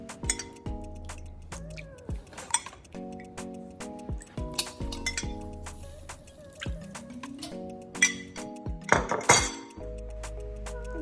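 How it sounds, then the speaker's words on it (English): A spoon clinks against a ramen bowl while tare sauce goes in for tonkotsu ramen. Several light, bright taps scatter through the passage over soft background music. "So we're going to add like a couple of spoons of tare sauce."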